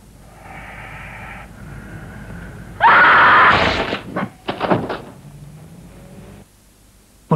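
A person screams in a loud, sustained burst of a second or so in the middle of a tense scene from a 1967 film. A few sharp knocks follow, then quiet room tone.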